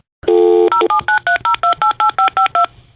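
Telephone keypad tones: one longer tone, then about a dozen quick beeps in a steady, even rhythm, loud and close.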